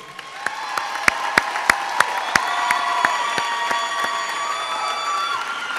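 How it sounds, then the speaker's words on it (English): At a Genesis High School graduation in 2018, the audience applauds students, starting with a few sharp, spaced claps, then swelling into a sustained wash of clapping and cheering with some children shouting amid the crowd. "Join me in applauding their accomplishment."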